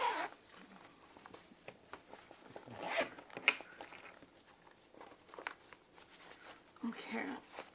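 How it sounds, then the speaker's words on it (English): A zipper being pulled open in a few quick rasping strokes, close by, amid rustling and handling noises with some talking. "Okay, here's the zipper."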